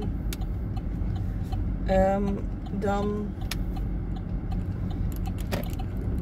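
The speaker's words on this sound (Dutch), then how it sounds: "dus komt er veel verkeer af in mijn tegenstelde richting" Heavy road traffic streaming past in the opposite direction near roadworks, a steady loud rumble with a couple of vehicles swishing by close, while someone talks over it.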